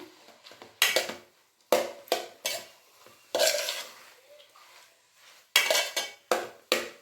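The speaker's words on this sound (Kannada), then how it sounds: "ಚೆನ್ನಾಗಿ ಮಿಕ್ಸ್ ಮಾಡ್ಕೊಂಬಿಡೋಣ" Potato and pea filling with coriander leaves being stirred in a pan, a spoon scraping and clanking against the metal in irregular bursts with quiet gaps between, close and alone.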